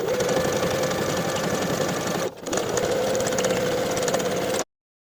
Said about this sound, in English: I'll top stitch with about a 1/4 inch seam allowance from the seam on the side that the seam allowance has been pressed toward